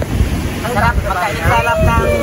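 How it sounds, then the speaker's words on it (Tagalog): Gusty wind buffets the microphone at an outdoor birthday gathering, a steady rough rumble with people talking faintly underneath. "Mahangin eh."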